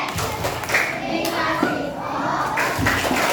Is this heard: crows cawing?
no